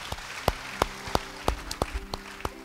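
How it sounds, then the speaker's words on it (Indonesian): A small church congregation claps during a sermon, giving a thin, sparse applause of separate, fairly even claps spaced about a third of a second apart, quiet and a little distant, over a faint steady tone. "Beri tepuk tangan bagi dia."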